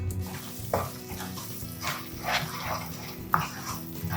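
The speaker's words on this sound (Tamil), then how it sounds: "இந்த விழுதை நம்ம எண்ணெயிலே வதக்குறதுனால நல்ல ஒரு ஃப்ளேவரும் டேஸ்ட்டும் கிடைக்கும்" Ground masala paste for a thick hotel-style plain salna stirred and frying in hot oil over medium flame, a steady sizzle with scraping spoon strokes recurring close by, no voices.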